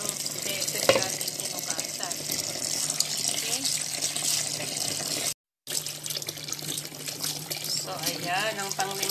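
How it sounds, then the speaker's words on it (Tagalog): Ampalaya leaves being washed in a sink under running tap water, a steady close splashing and gurgling rinse with a brief pause partway through. "Ayan, ang panglimang hugas natin."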